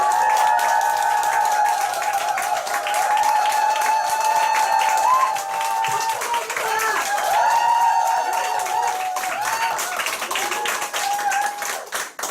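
A group meeting crowd bursts into clapping and loud cheering shouts that run steadily for about twelve seconds, with sustained voiced yelling layered over the dense claps before it all trails off at the end.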